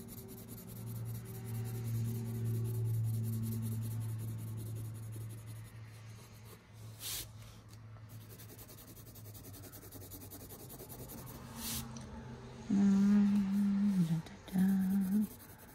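Pencil scratching and rubbing across paper while sketching a boot, a steady close scrape with short pauses, fainter and broken in the middle and firmer again near the end.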